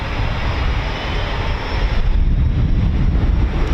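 Eurofighter Typhoon FGR4 jets taxiing at RAF Coningsby, a loud continuous engine roar with wind rumble, swelling slightly toward the end.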